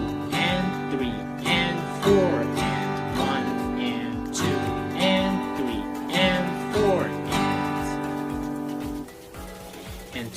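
Acoustic guitar strummed in a steady beginner strumming pattern, with the down strum on beat 3 removed, heard up close as even rhythmic chords that ring out alone.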